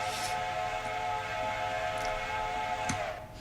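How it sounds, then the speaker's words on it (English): An AI-driven train engine in the railroad game Railroader sounds a steady, sustained whistle for grade crossings, with a layered tonal drone lasting throughout and a brief sharp accent near the end. "They actually whistle for the crossings now."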